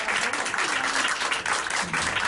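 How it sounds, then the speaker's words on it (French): Steady applause from an audience for a student at an end-of-year primary school show, a dense continuous wash of clapping that fills the whole moment at even loudness. "On peut l'applaudir encore une fois"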